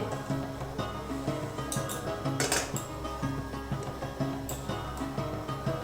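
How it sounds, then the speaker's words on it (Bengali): Thickened milk is gently stirred in a pot, with soft scraping and light clinks of a utensil against the metal over a low steady background. "দুধটা অনেকটাই ঘন হয়ে গেছে। খুব হালকা হাতে নাড়তে হবে।"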